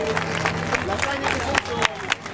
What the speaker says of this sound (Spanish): le damos fuerte aplauso a nuestro amigo de los completos